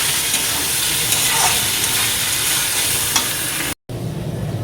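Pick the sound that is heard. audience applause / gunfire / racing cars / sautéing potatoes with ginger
sautéing potatoes with ginger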